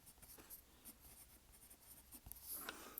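A Sheaffer Intensity fountain pen filled with Pelikan 4001 brilliant red ink scratches softly across paper in short, quiet strokes, faint and close with small taps and pauses between marks.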